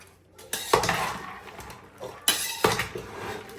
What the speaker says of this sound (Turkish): Şunu şöyle güzelce karıştırıyoruz.